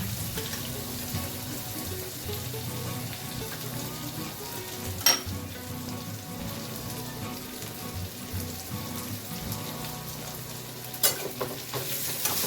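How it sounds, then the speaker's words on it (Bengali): Half-boiled potatoes fry in a pan with a dense, even sizzle like light rain, close and continuous, with a couple of sharp clinks of a utensil against the pan. "আলুটা ছেড়ে দিলাম"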